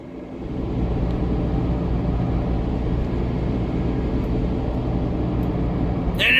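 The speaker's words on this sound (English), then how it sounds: "you notice when we swerve and the weight shifts to the right and the left, we get a grinding noise" A 2009 Saturn Vue driving on the road with a bad front wheel bearing, giving a steady low grinding rumble under the constant road and engine noise throughout, with no talk.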